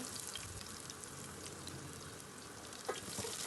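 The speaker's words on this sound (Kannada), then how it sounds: "ಒಣಮೆಣಸನ್ನು ಕಟ್ ಮಾಡಿ ಹಾಕಿಕೊಂಡಿದ್ದೇನೆ ಇದನ್ನು ಸ್ವಲ್ಪ ಈಗ ಫ್ರೈ ಮಾಡುವ" Dried red chilies and crushed garlic fry in oil as a quiet, steady crackling sizzle, with a light clink near the end and no speech.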